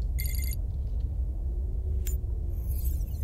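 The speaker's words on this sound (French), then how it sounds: "Le téléphone." An in-game telephone rings in Subnautica: Below Zero, a short burst of bright electronic trills near the start over a steady low rumble, followed by a brief chime later.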